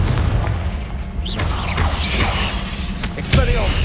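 Repeated Confringo fire-spell blasts in a Harry Potter-style PC video game, low booming explosions rumbling continuously with sharper crackling bursts near the end, loud and dense.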